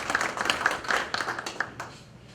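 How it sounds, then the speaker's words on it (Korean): An audience at a public debate on a subway accident claps for the committee chairman, producing a brief, moderate patter of hands that fades within a couple of seconds. "인사 말씀해 주신 우리 김철관 위원장님께 다시 한번 큰 박수 부탁드리겠습니다."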